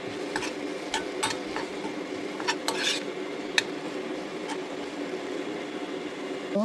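A spoon clinks and scrapes against a pot as spiced curry with turmeric, chili powder and coriander powder fries, sharp taps scattered over a soft steady sizzle, close and fairly quiet.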